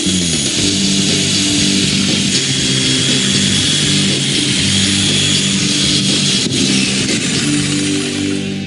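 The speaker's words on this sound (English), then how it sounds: "First up is to cut the hole for the sink. And JL is surprised at how easy the jigsaw is to use." A jigsaw cuts a hole for a sink in a countertop, giving a loud, steady buzzing rasp that runs without a break and with no voices over it.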